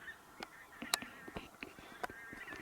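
A flock of bean geese, alert just before taking off, gives scattered honks and cackles at irregular intervals, some nearer and louder, others faint and distant, in a quiet open setting without speech.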